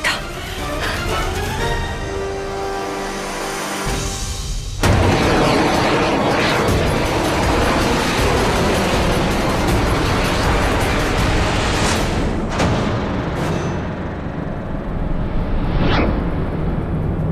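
A magical fire explosive weapon detonates in a fantasy drama: a sudden loud blast, then a long roaring, rumbling rush with further bursts near the end.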